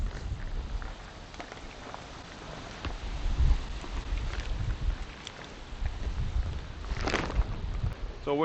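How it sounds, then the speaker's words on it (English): Strong wind gusting outdoors at a barn while a pontoon boat is being converted to a tritoon, a steady rumbling roar with buffeting surges against the microphone and faint background voices. "So windy today, help me out."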